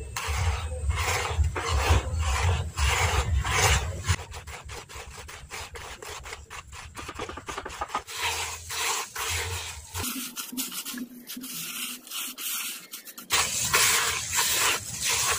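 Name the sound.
stirring rice husk charcoal powder mixture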